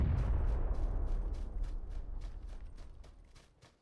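Rapid automatic bursts from a pair of Uzis in the console shooter PUBG, a dense, loud rattle that fades over a few seconds into scattered distant shots.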